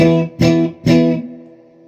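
Electric guitar with bridge and neck humbuckers together, a bright yet full tone: a few strummed chords, two sharp attacks ringing out and decaying, played alone.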